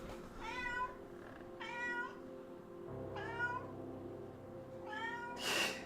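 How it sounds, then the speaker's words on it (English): A pet cat meows four times with pauses between, each cry clear and close, the last one louder and shriller, with no talking. "You can hear her, right? You can hear my cat mewing."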